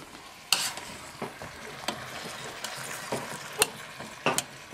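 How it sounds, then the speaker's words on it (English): Vegetables cut in big chunks simmer in a pot on the stove, with a steady low bubbling and sizzle broken by a few sharp clinks of stirring. No one talks over it. "You just let that simmer really slow."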